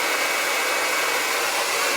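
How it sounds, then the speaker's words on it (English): A handheld blow dryer runs steadily while drying smoothed hair, a loud, close, continuous airy whoosh with no speech over it. "Turn on the blow dryer."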